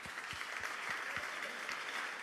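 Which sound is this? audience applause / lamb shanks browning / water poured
audience applause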